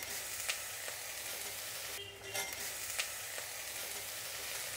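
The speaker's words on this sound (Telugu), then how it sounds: "ఇప్పుడు దీన్ని వేయించుకుందాం." Tomatoes, garlic and ginger fry in a pan with a steady, soft sizzle that holds throughout, interrupted by a brief stir or shift midway and a few light crackles, quiet and close with no voices.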